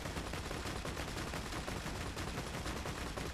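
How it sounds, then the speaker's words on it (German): A mounted gun in the Borderlands 2 video game fires at a helicopter in dense, continuous rapid bursts, a loud, steady wall of shots with no talking. "Ich baller gerade den Kopter weg."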